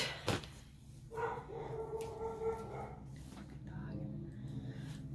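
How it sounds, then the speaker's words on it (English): A dog barks a few times in the background at a tractor outside, partly under ongoing talk and low household noise. "my Dookie is barking at the tractor outside"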